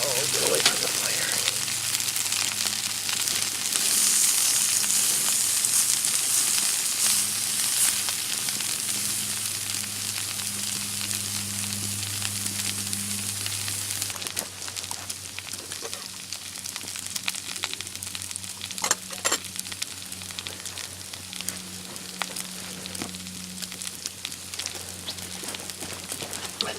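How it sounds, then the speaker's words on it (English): Broccoli fries in butter and oil in a pan over an outdoor campfire, a steady soft sizzle and hiss with a low hum underneath, growing quieter and more crackly in the second half. "I thought butter and oil would be enough to cook this broccoli, but burning."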